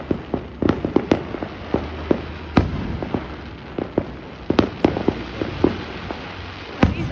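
Fireworks and firecrackers burst in scattered irregular pops and bangs, some sharp and close, others softer and distant, over a steady crackling background with no talking.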